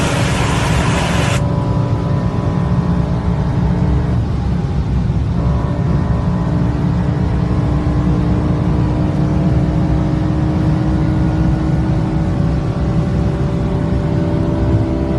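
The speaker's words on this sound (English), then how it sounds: "BMW put a V10 derived from the Formula 1 engine, if I'm not mistaken, bored up to 5 litres and put into the car" BMW M5 E60 with its 5-litre, Formula 1–derived V10 runs loud and close in a steady, sustained engine roar with rising harmonic tones, no talk over it.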